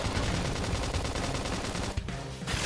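Rapid, dense gunfire in the video game Xenoblade Chronicles X rattles continuously as a loud, sustained barrage, with a brief dip near the end before it resumes.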